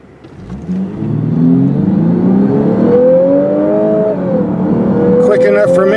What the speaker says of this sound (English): that exhaust sound in sport mode is gorgeous.